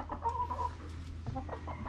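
A chicken clucking nearby, a few short squawky calls and softer clucks over a low background hum, with no speech.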